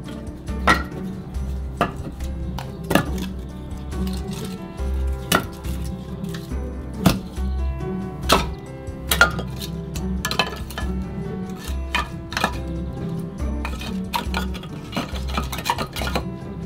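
Firewood being loaded into a wood-fired pizza oven: close, repeated wooden knocks and clattering clunks at an uneven rhythm, with no talking.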